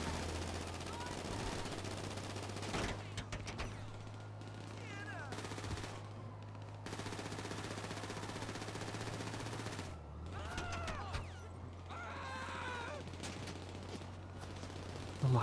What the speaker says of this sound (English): Shoot them, shoot them.